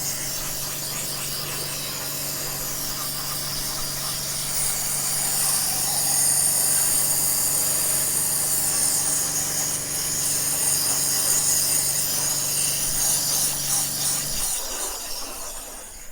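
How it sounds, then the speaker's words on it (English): A jet wash (pressure washer) running with very little pressure while cleaning an abandoned Suzuki Wagon R+, giving a steady, close motor drone with a hissing spray that continues evenly and then cuts out near the end. "My jet wash is being a right pain at the moment."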